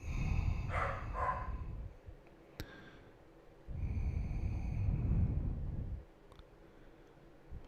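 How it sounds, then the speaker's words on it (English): Indoors, a dog barks in a short muffled double bark from another room, followed by faint clicks and rustling amid a low fluctuating background hum. "Dog's in there barking at something."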